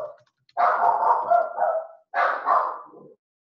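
A dog bark in two separate bursts, close and fairly loud, heard during a coding lesson at a computer. Nobody is speaking.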